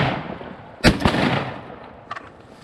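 Shotguns fire during a mallard duck hunt outdoors, a sharp blast followed by a quick second shot and a fainter pair of pops later, over breezy background noise.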